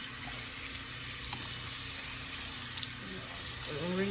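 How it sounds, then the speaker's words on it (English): Running water rinses conditioner out of a wig, a steady broadband hiss of flow over a sink, with brief clanks and a faint voice near the end. "Rinsing out the conditioner."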